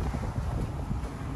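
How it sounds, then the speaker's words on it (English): Wind gusts buffet the microphone outdoors, a dense low rumbling roar that stays steady through the short moment, with no talk over it. "it's kind of windy now."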